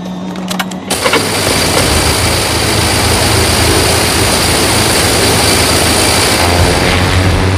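An airplane engine roars loudly and steadily as the aircraft taxis for departure, a broad continuous rumble and whine that starts abruptly after a brief moment of quieter sound and holds constant.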